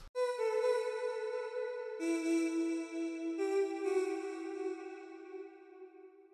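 A sustained, airy chord pad from the Distant Voices Eternal Dreams note kit rings out clean and steady, shifting chords twice and slowly fading, with no talking over it.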